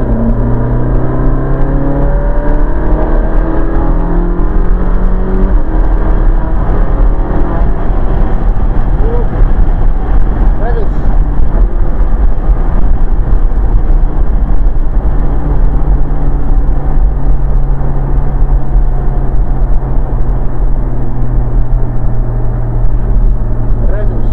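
A Ferrari driven hard through the streets of Maranello, its engine droning loudly and rising in pitch through gear changes, with continuous road and wind noise and a person talking over it.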